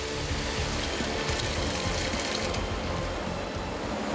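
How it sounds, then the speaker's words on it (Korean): Barley water is poured onto oven-roasted salt while making salt bread, a steady, fairly loud rushing splash that runs without a break and with no voices. "오븐에서 구워낸 소금 위에 또 무언가를 부어줍니다"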